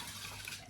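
Water poured during home cooking, a soft, faint splashing trickle that runs steadily through a brief moment with no voices.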